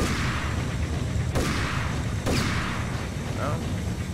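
Two heavy gunshots ring out about a second apart in the video game Max Payne, each a sharp blast with a short decaying tail over a loud, constant game soundtrack and background noise.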